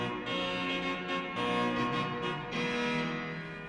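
A pipe organ's Trumpeta Real reed stop, coupled with the 16-foot Cornet Magna, holds a bright, blaring chord with slight shifts in loudness as notes change, sustained and alone.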